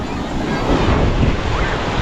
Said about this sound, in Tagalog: So ganito pa lang yung alon niya